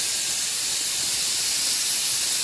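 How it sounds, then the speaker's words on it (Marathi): Steady, loud hiss of steam escaping a pressure cooker on a low gas flame as whole masoor lentils cook with fresh coconut, a continuous even rush with no breaks or voices. "इकडे आपला अख्खा मसूर स्टीम होत आहे, म्हणजे कुकरला लावलेला आहे"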